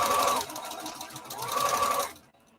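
Sewing machine back-stitching on a scuba fabric skater skirt, with two close, loud bursts of whirring stitching before it stops.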